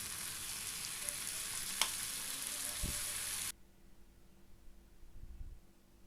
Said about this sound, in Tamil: பாருங்கள், நல்லா மசாலா உதிர்ந்துடாமல் கொஞ்சம் நேரம் நல்லா வெந்ததுக்கப்புறம் லைட்டாக திருப்பி விடணும்.